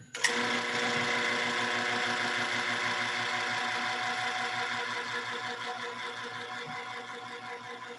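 A sustained metallic ringing from a bell inside a partly evacuated vacuum chamber, steady and buzzing with rich overtones, continuing at fairly even loudness after a sharp start and fading only slightly.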